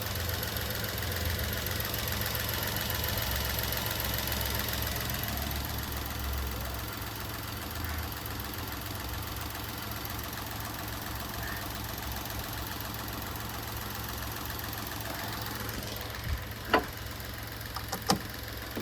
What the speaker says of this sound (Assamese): এইটো চাওক, ইঞ্জিনৰ চাউণ্ডটো শুনি লওক